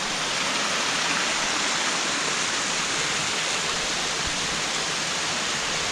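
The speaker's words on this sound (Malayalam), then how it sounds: "ദേ മേലെ നിന്ന് വരുന്ന വെള്ളം." Water pours down from the rocks above into a rock-pool ornamental fish farm, making a loud, steady, broadband rush like a small waterfall. The sound is heard close and alone, with no voices.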